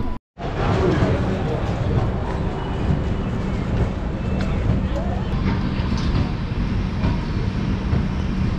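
The Kovai SF Intercity Express 12676 runs on the Coimbatore to Chennai line. From on board, its wheels give a steady rumble with faint clacks against the rails, and it plays continuously at moderate loudness.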